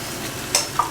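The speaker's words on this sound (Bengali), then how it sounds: "এবারে চিংড়ি মাছটাও কিন্তু ভাজা হয়ে গেছে," Shrimp sizzle in a pan of hot oil, a close, steady frying hiss broken by a few brief stirring clinks within one second.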